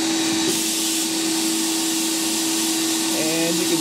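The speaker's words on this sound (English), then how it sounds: "I'm going to attempt to videotape sandblasting just a piece of this through the screen one-handed" A sandblaster stripping black paint off metal roars as a loud, continuous blasting hiss without pause, close to the microphone, with a faint tonal hum underneath.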